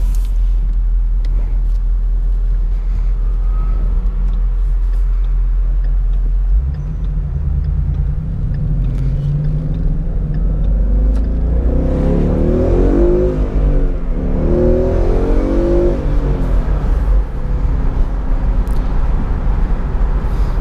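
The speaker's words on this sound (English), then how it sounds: "So it is a considerably less wind noise inside the cabin here, as it should be when you pull the windows up." Interior of a 2017 Ford Mustang GT California Special convertible driving with the top down and windows raised: a steady low engine and road rumble that swells briefly midway, as if under light acceleration, with no talking.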